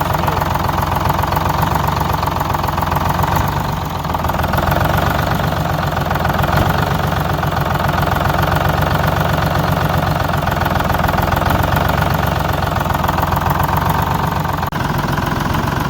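The rescued engine of the Texas Silversides boat runs continuously with a random misfire, giving a loud, steady, close mechanical drone with a rapid knocking pulse and occasional slight dips in its rhythm.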